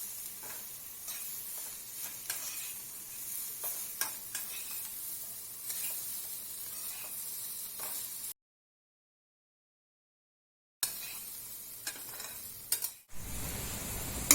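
Bitter gourd frying in a turmeric oil tempering, a continuous quiet sizzle with scattered clicks and scrapes of stirring, broken by a few seconds of silence before the frying resumes.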